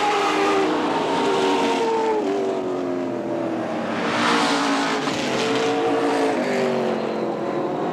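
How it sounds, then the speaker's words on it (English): Race cars roaring around the final lap at Tri City Motor Speedway, a loud continuous engine drone with shifting pitch as the field passes, and a brief tire squeal amid the steady track noise. "One lap to go for Laney."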